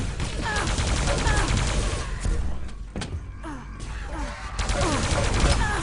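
Quake Live team deathmatch gunfire from a tournament match, with rapid plasma gun bursts and heavy shotgun blasts layered into a dense, loud, continuous barrage of game effects.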